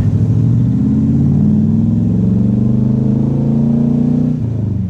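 A restored 1974 C3 Corvette with its top off, its engine droning loud and steady as it cruises on a brisk January morning, holding a deep, even note before easing off near the end.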